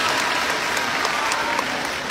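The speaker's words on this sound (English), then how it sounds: "let's give him a round of applause." An audience breaks into applause for a guest who has made kimbap, a loud, dense and continuous clatter of many hands clapping without any gaps.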